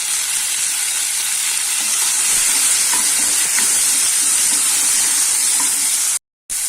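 Chopped tomato frying with softened onions in a pan for an idli sambar, a steady loud sizzle and hiss running without a break, with a few faint stirring clinks, then a brief cut to silence near the end.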